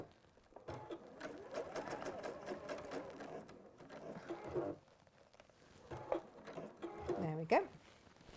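Sewing machine stitching a seam: quiet rapid mechanical patter in short runs with pauses, faint and close, while someone talks over it.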